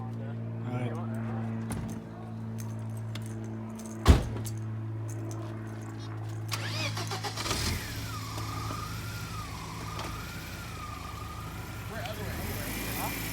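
Keys jangle before a BMW E36 engine turns over and starts, then settles into a low idle and revs with shifting pitch as the car backs out, with people talking throughout.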